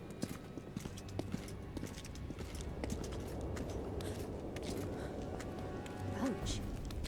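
Hoofbeats of Roach, Geralt's horse in The Witcher 2, clip-clop steadily under a dense game soundscape, with a voice speaking over them throughout.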